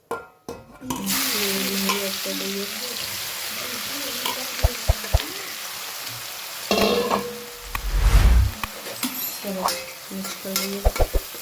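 Mustard seeds, cumin, asafoetida and green garlic stirred in a hot frying pan, sizzling steadily with scraping spoon strokes, occasional clinks and a louder burst of frying midway, no talking.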